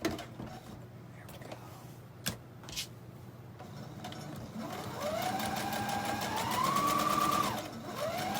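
A sewing machine stitching a holiday table runner, its fast, close, whirring run rising in pitch and holding steady after a few quiet seconds of handling sounds.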